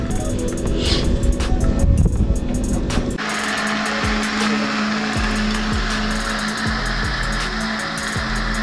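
An electric blender grinds coconut in a home kitchen while making a Jamaican Ital stew, first a rough chopping churn, then a loud, even high-speed whir with rhythmic pulsing knocks, close and steady, without speech.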